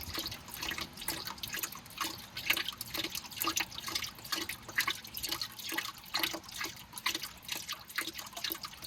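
Transfer case fluid from an NP241 pouring out of the open drain hole after the plug flew off, a steady close splashing trickle with rapid drip-like patter throughout.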